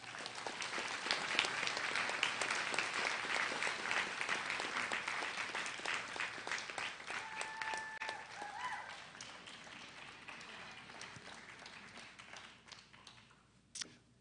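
A commencement ceremony audience at Northwestern Health Sciences University applauds, a broad wash of many hands clapping that gradually thins and fades toward the end, with a brief louder tap at the close.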